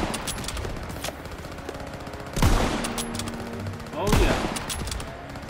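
Machine gun fire in Call of Duty WW2 cracks out in two loud bursts over scattered shots and battle noise, while a player speaks briefly.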